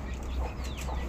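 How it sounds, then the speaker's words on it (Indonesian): Bangkok fighting roosters kept apart from the laying flock at a backyard village chicken farm, with brief, mid-distance clucks and calls over steady low background noise. "Sini ayam-ayam jantan, ayam-ayam Bangkok yang siap bertarung"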